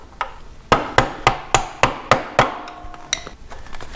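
About eight sharp, evenly spaced hammer blows drive a bolt into a Kouba suspension linkage on a KDX200 motorcycle. The strikes are loud and close, followed by a few lighter knocks and scrapes.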